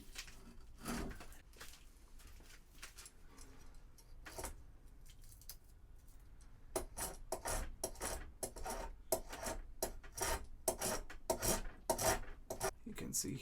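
A spokeshave cutting wood on the tiller of a medieval crossbow, a few scattered strokes at first and then a quick run of repeated rasping shaving strokes, close and fairly quiet, with no talk.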